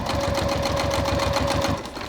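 A sewing machine stitches a bag seam in a steady, fast, rhythmic whir with close, even needle thumps that ease off at the end.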